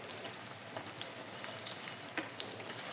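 Afghan flatbread filled with egg, potato and beef frying in plenty of oil, a soft steady sizzle with scattered crackling pops, fairly quiet and close, no talking.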